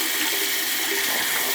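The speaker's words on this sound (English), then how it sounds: "I'm gonna go ahead and just wash it under the sink." Water from a sink tap runs steadily onto a gold chain being rinsed, a close, even rushing splash with no talking.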